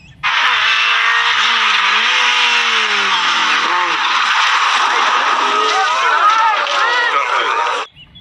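A voice imitates a toy rally car with a sustained, loud vroom, rising and falling engine whines and skidding noises, continuous for about eight seconds with no real engine heard.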